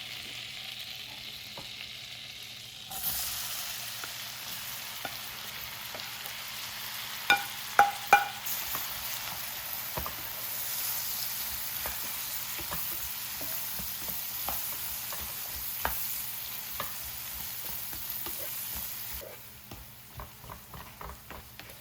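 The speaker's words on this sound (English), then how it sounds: "throw a stick of butter into the pan. And mix all your veggies and cook them until soft" Vegetables cook in melted butter in a pan for a pot roast, a steady sizzle with scattered pops and utensil clicks, louder in the middle before easing down.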